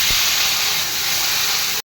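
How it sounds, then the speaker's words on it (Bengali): Cut potatoes frying in hot oil, a loud, steady broadband hiss and sizzle close up that runs without pause before cutting off abruptly at the end. "আলুগুলো ভাজা হচ্ছে"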